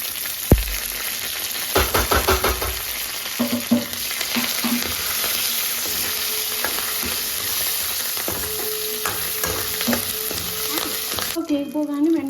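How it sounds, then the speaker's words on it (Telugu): Curry leaves hit hot oil already holding mustard seeds, cumin and dried red chilies for a Telugu mango dal tempering, giving a loud continuous sizzle and crackle with a few stirring clinks, heard alone. "వెంటనే గ్యాస్ ఆపేసిన తర్వాత ఇప్పుడు మనం కరివేపాకు వేసుకుంటాం"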